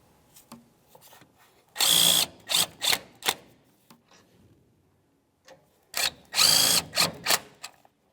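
Power tool bursts running the three shock mount nuts down on a 2002-2005 Ford Explorer front shock and spring assembly, two loud whirring runs with ratcheting clicks between them, close up with no talk.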